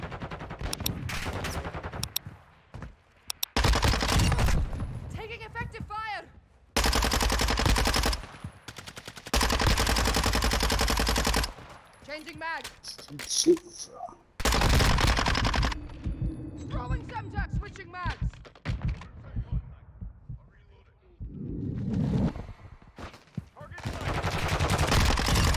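Bursts of rapid Minibak submachine gun fire in Modern Warfare 2, loud and close, coming in repeated sustained volleys separated by short gaps, with a voice talking in between.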